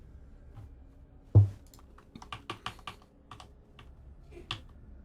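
Typing on a computer keyboard: a quick scatter of close, crisp key clicks after one sharper knock, with uneven pauses between the taps.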